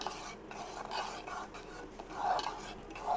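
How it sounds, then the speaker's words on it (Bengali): Palm semolina pudding with coconut is stirred in a pan on the stove, a soft continuous scraping and swishing with rhythmic strokes, close and quiet. "সুজি যত লাড়বেন তত সুন্দর হবে,"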